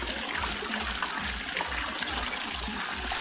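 Water gushing steadily from a newly installed kitchen faucet into a sink, a loud, close, continuous rushing splash with a slight rhythmic pulsing and no speech over it.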